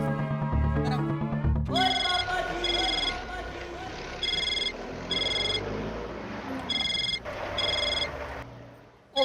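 A telephone rings in bursts of repeated electronic tones amid a busy household scene, with background talk and commotion running underneath.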